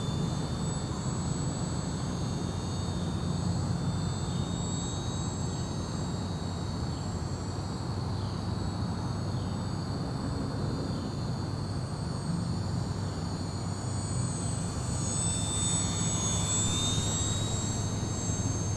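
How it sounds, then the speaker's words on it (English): H-King Savage Bobber, a compact 1000mm radio-controlled STOL model airplane, flying slowly with full flaps: a steady, continuous electric motor and propeller drone with a thin high whine, holding level throughout with no voices. "In slow flight, with full flaps down, the bobber flew really well."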